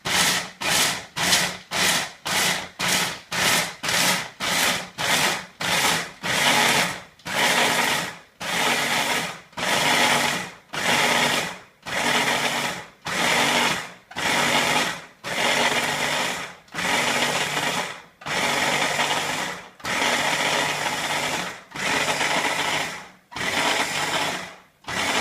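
Food processor grinding nuts into nut butter for cookies, a loud pulsing machine whir that runs in quick short bursts at first and then in longer, steadier surges with brief gaps between them, with no talking.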